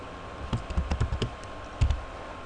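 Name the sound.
typing on computer keyboard in vim editor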